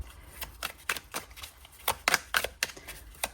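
Crisp, quick riffling bursts of tarot cards being shuffled, about a dozen snappy flicks in an uneven rhythm, close and fairly quiet.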